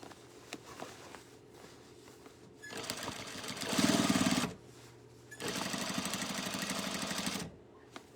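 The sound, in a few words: sewing machine stitching a tote bag edge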